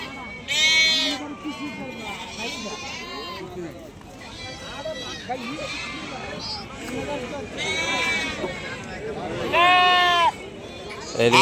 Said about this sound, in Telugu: గొర్రెలు మామూలు ఎరుస్తూ ఉంటాయి.